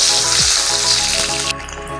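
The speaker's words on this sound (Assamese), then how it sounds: "এতিয়া মই এইখিনি ভাজিবলৈ ষ্টাৰ্ট কৰোঁ এয়া দেখিছে আধা কাপ তেল দিয়াই আছে এতিয়া এয়া দেখিছে পিঁয়াজ আৰু তেজপাত" Sliced onion and bay leaves fry in about half a cup of hot oil for a chicken curry, giving a loud, dense, continuous sizzle close up that eases slightly near the end.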